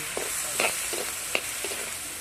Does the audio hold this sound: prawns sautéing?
yes